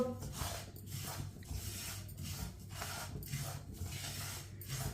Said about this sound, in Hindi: 4-5 मिनट के लिए इसी तरह चम्मच चलाते हुए भून लेते हैं